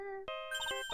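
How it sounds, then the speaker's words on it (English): Cell phone ringing in the Phoenix Wright: Trials and Tribulations game, a short bright electronic ringtone of stepped beeping tones, clear and alone. "Hey, Nick, your cell phone's ringing."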